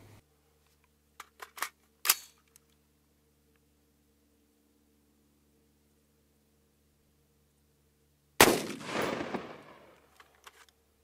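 Mk318 Mod1 rifle rounds fired outdoors at a range into calibrated 10% ballistic gelatin: a few sharp clicks and one crack early, then a single loud, broad report with a long decaying tail over a low steady hum.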